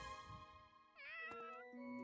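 A cat meows in Fire Emblem Three Houses, one clear drawn-out mew rising and falling over soft game music, with a brief tone before it.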